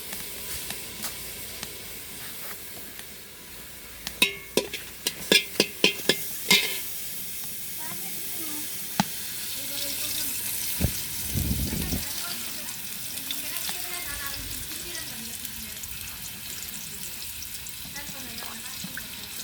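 Food cooks in a pot with bay leaves added, a faint steady sizzle and bubbling broken by a run of sharp clinks and scrapes from stirring, under a low voice talking now and then.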